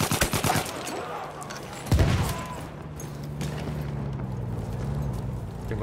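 Battlefield 1 video game gunfire: a rapid burst at the start, followed by a single heavy shot and a continuing low rumble of distant combat noise.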